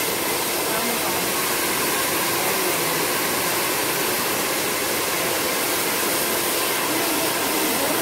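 A hair dryer blows hot air onto freshly dyed green hair in a steady, loud, unbroken roar held close to the microphone throughout.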